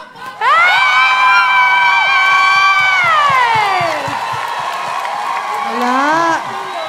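A studio audience on a Filipino game show bursts into loud cheering and shouting, with children's voices and whoops rising over clapping. The noise holds strong for several seconds, then eases slightly.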